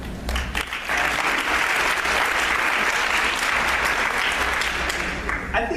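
Sustained audience applause at a healthcare marketing conference presentation, a dense, steady clapping crowd holding for several seconds before tapering off at the end.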